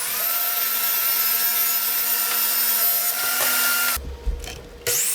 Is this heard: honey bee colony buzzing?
no